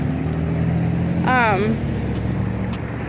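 Steady traffic drone on a busy street, a continuous low rumble of passing cars throughout, with a short rising whine or squeal in the middle.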